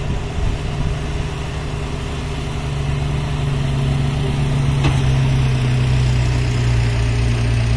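A car races along a dusty dirt road, its loud engine drone holding steady and swelling slightly nearer toward the end.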